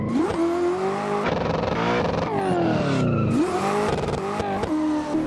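A drifting car in the video game Assetto Corsa revs hard with sweeping pitch rises and drops, tyres squealing and skidding between throttle bursts, loud, close and continuous, with no talking.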